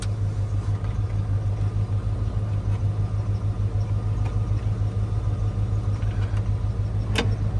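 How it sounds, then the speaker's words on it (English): A 1977 Chevrolet K10 pickup truck engine idles steadily with a low, even hum and rumble, and a faint brief belt squeak rises near the end. "Little belt squeal there at first startup"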